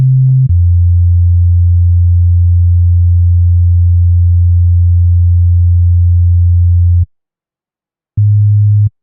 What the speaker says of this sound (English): S950 test tone, and you can just hear what it's like here